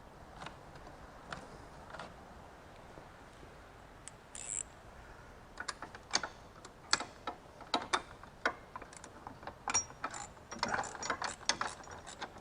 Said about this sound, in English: I'm going to take my deep 8mm socket, put it in there, and get a small ratchet.